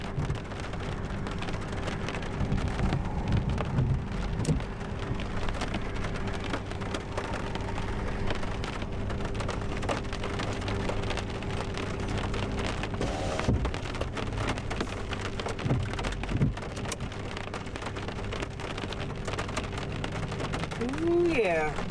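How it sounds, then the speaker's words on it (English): Steady rain pours down during a thunderstorm in East Texas, a constant hiss of drops on surfaces with low rumbling thunder beneath, alone and fairly even throughout. "Get our thunder going on."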